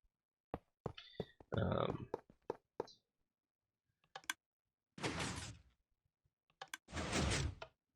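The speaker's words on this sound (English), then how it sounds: "you do a redstone torch there to close the door" In the video game Minecraft, a hidden door built with redstone and a button closes with sharp blocky clicks and thunks, followed by two longer bursts of mechanical grinding, all heard alone.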